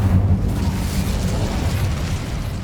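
A fire spell cast in Hogwarts Legacy sets off a loud, sustained burst of roaring flame with a deep booming rumble that holds steady for nearly three seconds, with no talking.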